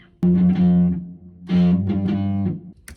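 Electric guitar riff played with a different tone and pickup, two sustained chord phrases with a brief gap between them, loud, close and alone.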